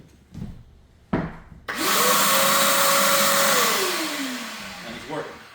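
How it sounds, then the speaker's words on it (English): A vacuum cleaner powered from a Bluetti battery power station's AC output, with a couple of clicks, then the motor whirs up, runs loudly for a few seconds and winds down. "we'll plug in this vacuum cleaner."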